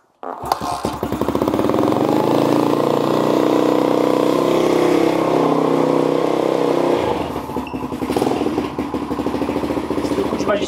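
A brand-new TCB 125 motorcycle fires up on its first start and settles into a loud, steady running drone, with a brief dip and a rougher, rising engine note near the end; people talk over it.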